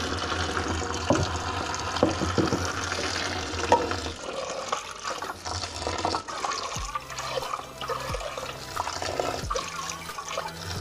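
Boiled water with moringa flowers is poured from a cooking pot into a strainer, a steady rushing splash of liquid with gurgles and occasional clanks of metal, continuing for several seconds.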